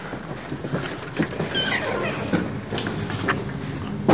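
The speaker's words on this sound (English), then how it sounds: "What's that noise? Oh, it's the blowers." Industrial air blowers running in the dry dock around the hull of the SS Great Britain, a steady broad roaring rush of air with faint voices and footsteps mixed in.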